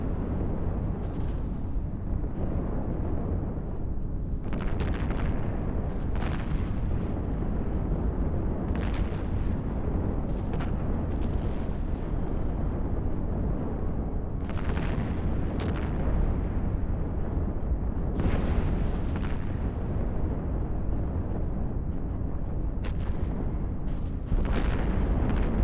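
Battleship guns firing in the space game EVE Online, heavy booms recurring every few seconds over a dense, continuous low rumble, with no talk.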